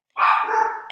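A dog lets out a single loud, drawn-out bark close by, lasting under a second, with no talking over it.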